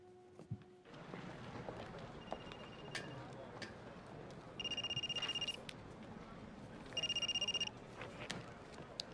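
A telephone rings in two bursts of an electronic trill, close and moderately loud, with a faint earlier tone and quiet room sounds between rings; no one speaks.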